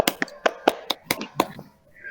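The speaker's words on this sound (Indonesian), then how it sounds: "Tepuk tangan dulu untuk kita semua." A small group claps hands at an Indonesian teacher coaching practice session, a short burst of about eight uneven claps, close and fairly loud, fading into a faint tone at the end.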